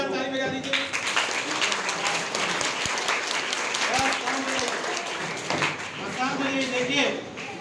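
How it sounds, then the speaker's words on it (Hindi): Applause from an audience at a school event, dense clapping running throughout, with a voice and other sounds mixed in over it. "एक बार जोरदार ताली बजा दीजिए"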